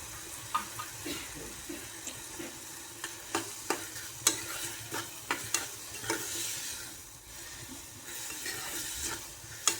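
Matki (moth bean) dal and onion curry is stirred in a sizzling pan, with a steady frying hiss broken by sharp, repeated spatula clicks and scrapes against the pan, close up and without talk.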